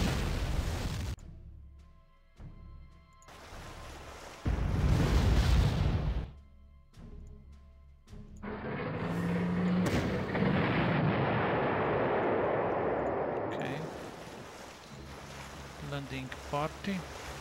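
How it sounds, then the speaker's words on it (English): Artillery bombarding infantry in the Panzer Corps war game, heard as a series of loud, heavy booming blasts and rumbling bursts, with a long sustained roar in the later part. "let's try to bombard this infantry"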